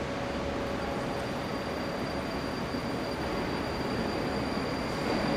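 A Moscow Metro train at Park Kultury station gives off a steady, loud rumble with a faint high whine above it. The sound runs unbroken, with no voices.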